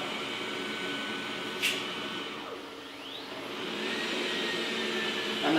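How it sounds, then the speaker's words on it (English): A robot vacuum cleaner hums and whirs steadily as it maps out the area to clean. The sound is a continuous broadband drone at moderate level, with a brief higher whine partway through and no speech. "He's got the little vacuum things going."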